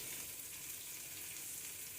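Onions sautéing in a pan for a drumstick curry, giving a steady, even sizzle and fry that carries on throughout, fairly close but not loud, with no talking.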